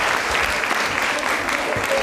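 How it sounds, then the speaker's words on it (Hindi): An audience at a college quiz show bursts into dense, continuous applause, loud and even throughout with a faint voice underneath. "तालियां जोरों से बजाइए इनके लिए,"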